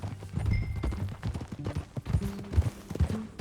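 Rhythmic clip-clop of galloping horse hooves in the video game Red Dead Redemption 2, steady and close, with a faint murmur of other sounds underneath.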